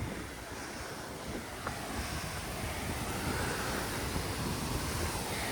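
A Scottish waterfall gives off a steady, full roar of rushing water, continuous and fairly loud, with wind buffeting the microphone throughout.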